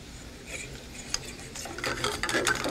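Utensil stirring white wine sauce as it reduces by half in a pan after deglazing browned bits, a steady scraping and swishing with faint simmer, close and continuous, growing a bit busier toward the end.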